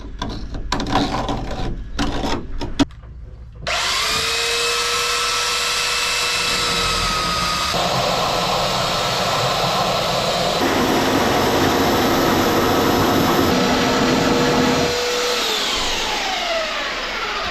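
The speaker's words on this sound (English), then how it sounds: "this belt sander over the years has done a fair lot of miles" A well-worn belt sander runs continuously at close range during a VW Crafter camper van conversion, its loud whining drone shifting pitch as pressure changes, preceded by a few seconds of rattling handling noise.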